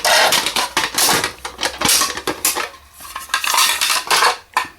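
A metal French army mess tin clatters and scrapes as it is handled, giving a close, busy series of sharp clinks and rattles with no talk.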